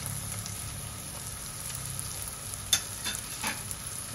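Mixed vegetables sautéed in a pan with dry spices, including red chilli powder, coriander powder, garam masala, turmeric and salt, give a low, steady sizzle, followed by a few clattering stirs toward the end.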